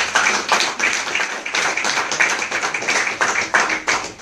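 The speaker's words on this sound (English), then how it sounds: "Can we give our panelists a round of applause?" A small audience applauds panelists at a discussion event, a lively, uneven clatter of clapping with bursts that swell and fade across the whole stretch.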